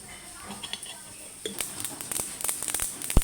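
Mustard seeds splutter in hot oil for an okra tempering, with scattered sharp pops and crackles that grow busier toward the end, while a voice is faintly present.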